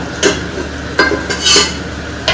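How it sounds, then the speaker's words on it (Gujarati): Dal tempered (vaghar) in a hot pan, giving several abrupt bursts of loud sizzling and crackle as it is stirred, with quieter hissing between bursts. "દાળનો વઘાર કરી રહી છું."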